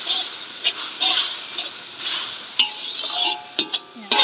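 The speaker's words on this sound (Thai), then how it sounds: "เราผัดแล้วเรากวาดกันจะทำให้ผัดไทยของเราอร่อยนะ" Pad Thai noodles are stir-fried over high heat and scraped around a pan. Rhythmic metallic scrapes come in short bursts, with sharp clinks of the utensil against the pan, all close up.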